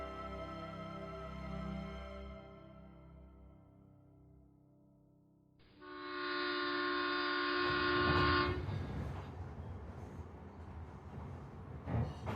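A train sound effect in a Bengali horror audio story: a faint horn tone fades, then a loud, sustained horn blast sounds for about three seconds before giving way to the steady rumble of the running train.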